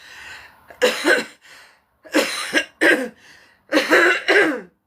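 A person coughs and clears their throat in a series of harsh, close bursts, grouped in pairs with short pauses between, loud and with no speech.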